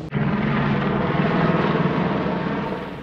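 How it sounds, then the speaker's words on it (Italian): A helicopter passes over an alpine valley in the Aosta Valley along the Alta Via 1, a steady loud rotor and engine drone with a continuous low throb holding through the whole stretch, no voices. "Ecco l'ennesimo elicottero che passa."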